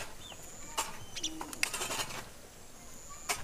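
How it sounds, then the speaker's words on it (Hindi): Many small birds in a village in Koriya, Chhattisgarh, chirping and calling in scattered bursts close by, with sharp chirps standing out over a steady outdoor hum. "यहाँ पर देखिए कितने सारे चिड़िया हैं, लगभग संख्या इनका सैकड़ों में।"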